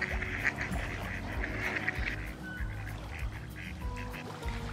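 Ducks quack repeatedly close by in a steady, busy stream of calls, heard outdoors beside a straw bale house in Arrowtown.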